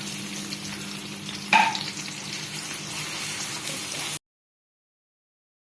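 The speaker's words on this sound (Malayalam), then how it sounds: "ഇതിൽ നിന്ന് കുറച്ച് സവാള എടുത്ത് നന്നായിട്ട് മൂപ്പിച്ചെടുക്കണം" Onions frying in a pan for chicken biryani, a steady moderate sizzle with one brief clatter early on, then the sound cuts off abruptly into silence near the end.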